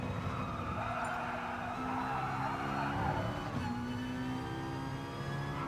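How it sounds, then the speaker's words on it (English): A race car in GT Sport brakes hard and drops down through the gears to second, its engine note stepping up and down in sustained, whining harmonic tones that stay loud and close throughout. "Braking down to second gear."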